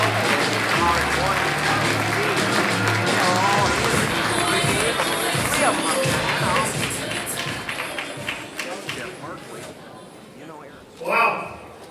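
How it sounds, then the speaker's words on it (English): An audience applauds for U.S. Senator Jeff Merkley, a dense sustained wash of clapping that thins out toward the end, with a voice speaking over it. "Give him a hand clap of praise."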